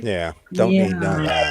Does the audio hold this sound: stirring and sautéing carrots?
no